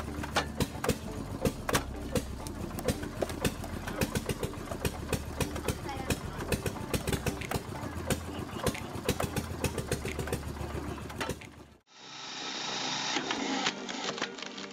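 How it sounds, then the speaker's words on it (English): Homemade automatic standing wood splitter running in a garden, a steady mechanical engine chug with rapid repeated clacks, loud and continuous, then cutting abruptly to a quieter hum near the end. "With this standing wood splitter in the garden, you can prepare firewood for an entire winter without worry."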